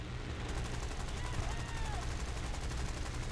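Rapid gunfire in the video game War Thunder, a dense stream of repeated shots forming a continuous rattling burst at moderate volume across the whole span.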